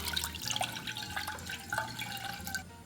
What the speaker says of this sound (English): pour in the water